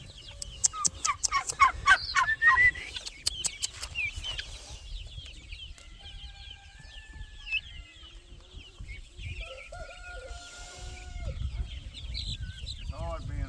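Farm ducks and other fowl call repeatedly on a Southern farm, with sharp squawks, clucks and honking bursts, loudest early and scattered later over rustling and background noise.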